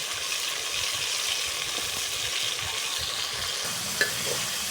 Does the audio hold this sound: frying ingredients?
yes